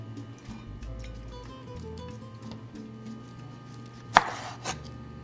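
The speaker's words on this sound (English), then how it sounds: "I'm gonna slice the stem off of our chile." A knife cuts the stem off a jalapeño chile for a boiled salsa roja, giving one sharp, close chop and a softer second cut over quiet kitchen background.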